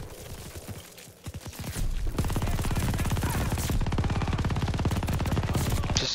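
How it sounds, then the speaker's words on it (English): Machine gun fire in the World War II shooter game Call of Duty: Vanguard, with scattered shots at first, then a long, loud, rapid stream of automatic fire close up. "Just shoot. It's a machine gun."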